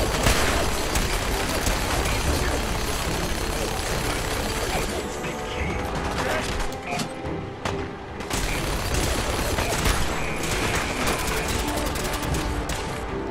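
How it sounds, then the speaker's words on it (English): Heavy battle gunfire in the video game Fallout 4 keeps up a dense, loud stream of rapid shots, crashes and booms that barely lets up, with a voice talking faintly underneath. "So much gunfire going on here."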